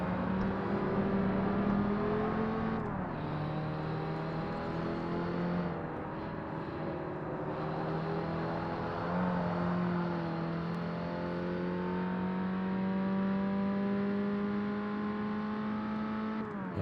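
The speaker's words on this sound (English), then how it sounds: "I can actually brake, and the car slows down rather than locking up." A racing car in Forza Motorsport holds a steady engine drone, rising and dropping through several gear changes over a long stretch, with no talking.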